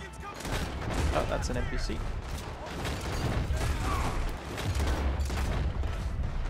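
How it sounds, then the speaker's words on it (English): Dual pistols fire in Red Dead Redemption 2 in the Saint Denis chapter: a dense, continuous volley of gunshots with mechanical clicks and rattles, while someone talks over it. "we just use the dual pistols, switch on Deadeye here and there"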